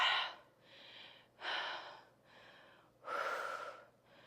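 Three breathy exhales during an at-home pilates workout with dumbbells and a band, each a soft airy rush close to the microphone, the last one strongest, separated by brief quiet inhales.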